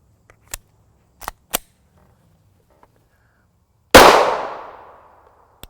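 A Glock 19 Gen 4 MOS 9mm pistol with a Holosun 407C sight fires Winchester M1152 rounds. A few small sharp clicks come first, then one loud close shot with a long ringing decay.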